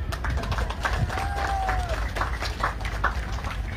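Crowd clapping and cheering at the opening of a cultural festival on an outdoor field in Keerom, Papua, a steady dense applause with a whistle rising through it.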